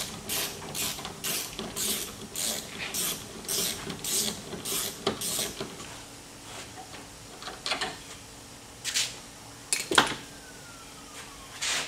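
A T30 bolt is worked out of the sliding door trim on a Chevrolet Uplander van, giving a steady run of rhythmic ratcheting clicks that later thin into a few sharper separate clicks and creaks, close up with no talking.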